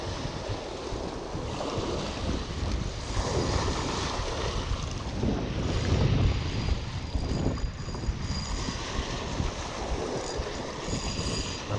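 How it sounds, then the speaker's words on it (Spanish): Choppy river water slaps and washes steadily under gusting wind rumbling on the microphone, a dense continuous roar that swells slightly midway, heard from a fishing boat with no talking. "El río está picadito."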